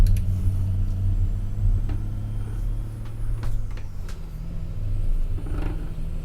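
A heavy truck engine in the American Truck Simulator video game, a steady low rumbling drone that shifts slightly as the truck downshifts, with faint clicks and clunks over the top.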